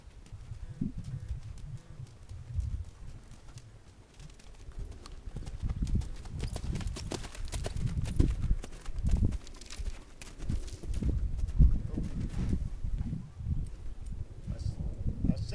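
A ridden horse's hooves clip-clop in an uneven, soft rhythm as it moves forward and stops during shank-bit training, fairly faint and close, with quiet outdoor rustle and a voice speaking now and then.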